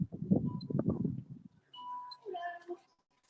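A cat meows a few times in short, clear calls after a burst of nearby chatter; the meows are faint and tonal, heard once the talking stops.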